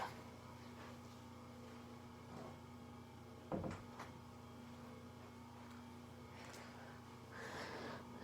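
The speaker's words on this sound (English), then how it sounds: "I'm gonna shut my door." A door being shut indoors in a house, a single short thump near the middle over a steady background hum, with faint rustling before and after.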